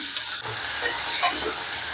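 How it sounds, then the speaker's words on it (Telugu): Ridge gourd pieces drop into a hot Telugu-style tempering for a simple curry, giving a steady broad sizzle throughout, with occasional scraping stir strokes and a light clink of a pan, close by and without talk. "ఇప్పుడు మనము బీరకాయ వేసేద్దాం"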